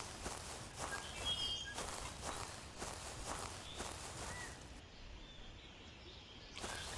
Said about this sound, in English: I thought I heard footsteps